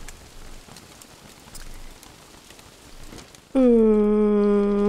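Rain falls in the video game Don't Starve as a soft, steady patter in the background, then a loud sustained tonal sound cuts in over it near the end.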